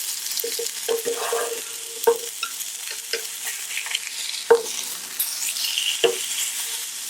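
Beef burger patty sizzling in a hot pan after being flipped, a steady crackle with intermittent scraping clicks and spatula taps, close and fairly loud with no voices.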